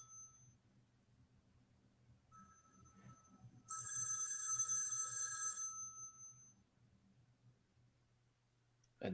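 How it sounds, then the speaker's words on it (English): A telephone rings as a sound effect in the 1974 horror film Black Christmas, a shrill electric bell burst lasting a few seconds against a quiet low hum, with the start of another ring at the end. "Just the sound effect of the phone."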